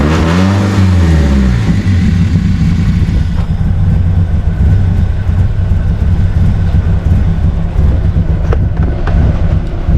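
A BMW E30 engine with an idle air control fault runs loud and close, dropping from a rising rev into a rough, steady drone that holds without talk.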